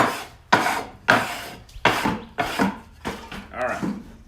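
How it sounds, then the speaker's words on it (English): Sawdust brushed off a wooden board in a workshop, heard as about seven close, raspy sweeping strokes in a steady rhythm, each a short scrubbing swipe, with no talking. "I'm going to get some of this sawdust off of here just because it kind of gets in the way"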